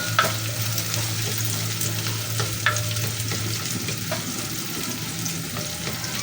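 Ground meat and vegetables sauté in a pan with a steady sizzle, broken by occasional scraping stirs and light clinks of a utensil, heard up close with no talking.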